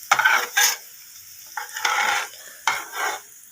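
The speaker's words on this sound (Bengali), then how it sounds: "ডিমটা ভেজে নেবো।" Egg frying in a pan, with bursts of sizzling and scraping from stirring or turning that come in several short waves separated by quieter gaps, close by and with no one talking.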